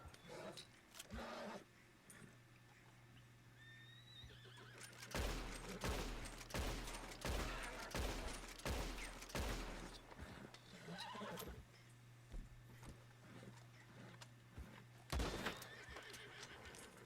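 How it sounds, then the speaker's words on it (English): Gunfire and horses in Red Dead Redemption 2, an Appaloosa whinnying and clip-clopping about as rapid bursts of shots ring out. Loud volleys crowd the middle of the stretch, with quieter hoof and tack sounds around them. "As you can see, the Appaloosa went kind of crazy when firing the rounds."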